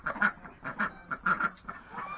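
Muscovy ducks call nearby in a series of short, honking, nasal calls coming in an irregular rhythm, close and moderately loud, with no talking.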